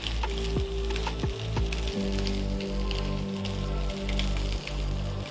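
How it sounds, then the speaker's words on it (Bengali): Pointed gourd (potol) frying in hot oil in a pan without spices, a steady loud sizzle with occasional scraping stirs of the utensil against the pan throughout. "এবার আমরা পটলটা ভাজবো ক্রমাগত নাড়াচাড়া করে, কোনো মশলা না দিয়ে"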